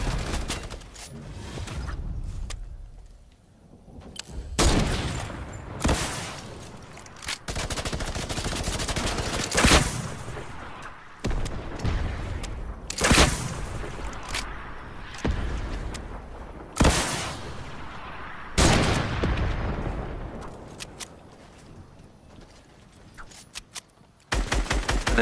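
Rapid bursts of automatic gunfire and single shots in the video game Fortnite, loud and close, coming in dense volleys separated by short lulls across the battle.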